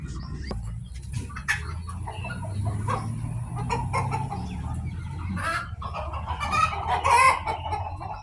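A large flock of chickens clucks and squawks continuously at close range, the calls overlapping in a busy, noisy chorus over a low background rumble.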